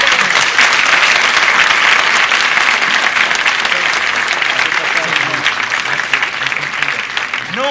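A studio audience at a 1969 Italian television variety show applauds the Cetra vocal group with a loud, sustained burst of dense clapping that fades slightly toward the end, where a voice begins to speak.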